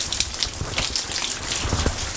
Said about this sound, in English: I don't really know because it is kind of raining.